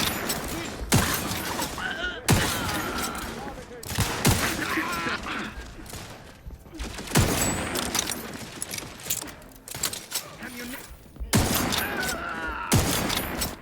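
Rapid bursts of gunfire from a first-person shooter, The Outer Worlds 2, come in clustered volleys with brief gaps, loud and close, with scattered game sounds between shots.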